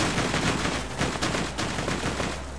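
Rapid automatic gunfire in the shooter game Borderlands 2, a loud, steady stream of shots with no pauses, lasting a few seconds.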